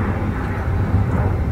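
Low, steady rumble of an airplane passing overhead, a continuous broad roar with no talking over it.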